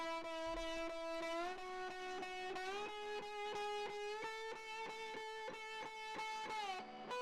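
Sustained fuzz-distorted guitar with sliding, gliding notes ringing over a steady beat, loud and continuous, no voices.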